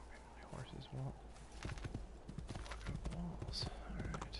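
Horse hooves clip-clop steadily in Assassin's Creed 2, close and rhythmic over game ambience with bird calls, and someone talks over part of it.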